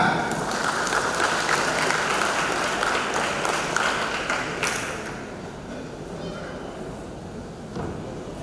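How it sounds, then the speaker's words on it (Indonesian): Sustained applause from a large crowd at a graduation ceremony fills the room, then gradually thins out and fades. "Kita sambut dengan tepuk tangan."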